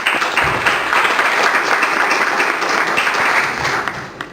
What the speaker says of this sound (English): and big applause to them.